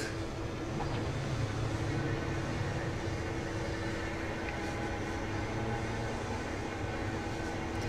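Locomotive rumbling along in CSX Heavy Haul, a steady low engine drone and track noise holding level the whole time, no talking.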